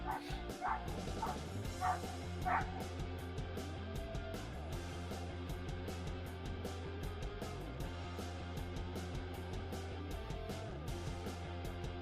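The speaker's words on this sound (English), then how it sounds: "I don't know if y'all can hear him barking." Repeated dog barks and excited yips at a dock sound through steady background noise, with a few clearer bursts early on and fainter ones after.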